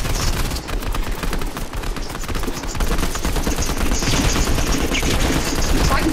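Gunfire in Fortnite crackles in rapid, dense bursts throughout, loud and continuous, with a sustained fusillade in the second half.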